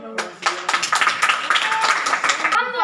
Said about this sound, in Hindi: हाँ ताली बजाओ।